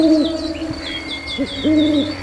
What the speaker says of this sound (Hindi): दूर कहीं उल्लू की आवाज और मेंढकों की टर्राहट गूंज रही।